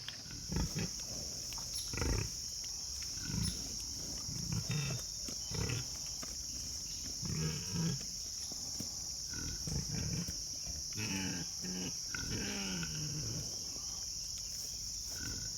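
Low grunts and snorts from pigs on pasture come and go over a steady high insect-like hiss, close and moderately loud, with no talking.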